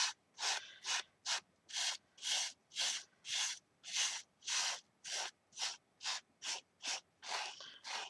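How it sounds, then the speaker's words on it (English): Small scouring pad rubbing over a stencilled surface gives a brisk series of about fifteen close, even scrubbing strokes in a steady back-and-forth rhythm, with no talking. "I've got like a little scouring bit here, and I'm just going over that."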